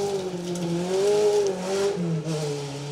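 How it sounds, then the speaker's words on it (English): Peugeot 205 rally car on a 2WD rally stage, its engine note droning and shifting in pitch as it drives past at a moderate distance, steady and continuous without a break. "Giles Armitage, Josh Rhodes giving it a good go in their rally first Peugeot 205"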